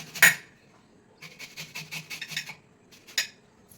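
Beetroot and hibiscus being grated by hand for homemade soap: a loud scrape, then a run of quick rasping strokes in a steady rhythm, close and dry, with a final stroke after a brief pause.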